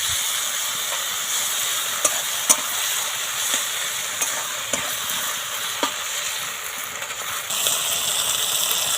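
Ginger paste hits a pan of already-fried garlic and sizzles steadily, a constant hiss with occasional soft clicks of stirring against the pan.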